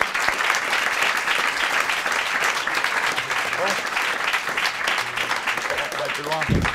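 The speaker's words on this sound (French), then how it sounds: "Applaudissements pour Andrea, tout le monde." Studio audience on a French-language game show applauding a contestant named Andrea, continuous crowd clapping with a few brief tonal sounds near the end.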